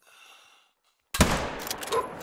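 A single loud rifle shot fired at a reindeer in the hunting game theHunter: Call of the Wild, a sharp blast that rings out after a quiet moment and then trails off.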